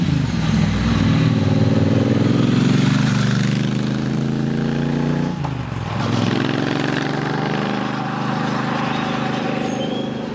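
A Triumph Bonneville motorcycle is ridden along a road, its engine a loud, steady drone up close that dips briefly midway as a gear changes, then settles back into an even cruise.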